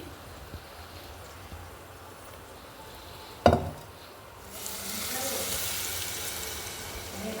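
White rajma curry with coriander powder and garam masala is stirred in a pan: a sharp metallic clink of a spoon on the pan, then a soft, steady sizzle that rises and holds to the end.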